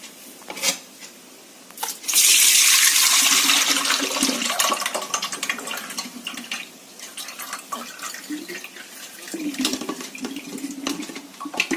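Gooseberry arishtam liquid is strained and poured, a loud close splashing rush of liquid that tapers into a steadier trickle with soft drips.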